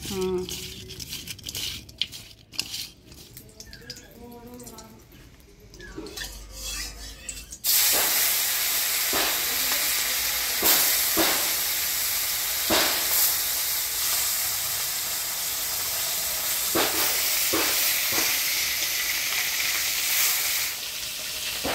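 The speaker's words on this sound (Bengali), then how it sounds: "মাছটা হলুদ লবণ দিয়ে মাখাই ভাজি নি" Small puti fish coated in turmeric and salt hit hot oil in a village kitchen, bursting into a loud, steady sizzle and crackle after a quieter stretch of handling noises, with sharp spatters popping through.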